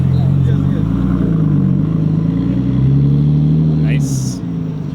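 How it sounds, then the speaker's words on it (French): A Nissan Skyline R33 rolls past at a modified-car meet in Tokyo, its engine a close, low, steady rumble that swells slightly before easing off. "Un autre Skyline R33."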